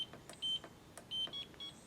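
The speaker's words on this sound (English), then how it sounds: "if I don't enter the code right, it's beeping" A home gun safe's electronic keypad gives a quiet run of short, high electronic beeps, some single and some doubled, after a wrong code is entered.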